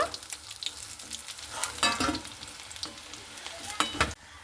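Fish roe frying slowly in oil over low heat, a quiet, steady sizzle up close with occasional scraping stirs and a sharper clatter near the end; no talking.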